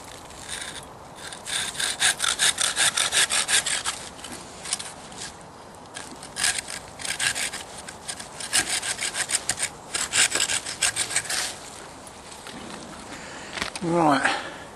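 A Laplander folding saw trimming wood outdoors, with repeated rasping back-and-forth strokes in several bursts, moderately close, with pauses between strokes and a short sound near the end.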